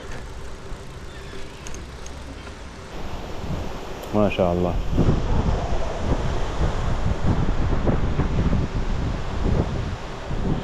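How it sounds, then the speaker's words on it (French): Strong sand-laden wind blows outdoors during a storm, a steady broad roar buffeting the microphone while someone speaks briefly. "Donc j'ai l'impression que c'est un mélange de vent de sable"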